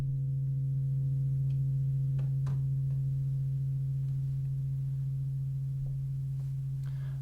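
A gong played with mallets gives off a low, steady, humming drone that rings on unbroken, with a few faint soft taps scattered over it. It is quiet and heard alone.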